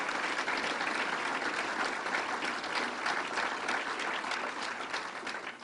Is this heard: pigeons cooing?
no